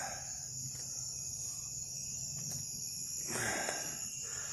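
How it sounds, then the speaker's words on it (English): Crickets chirp continuously around a tent at a stealth campsite, a steady high-pitched trill filling the background with a brief rustle near the end. "I woke up and there were tons of crickets all over."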